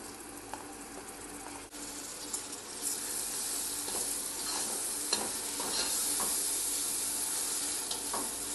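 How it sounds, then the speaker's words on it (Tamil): Tomatoes sautéing in a pan for Arabian shawarma, a soft steady sizzle broken by scattered scrapes and taps of stirring, fairly quiet and with no voices. "தக்காளி நல்லா வதங்கட்டும்."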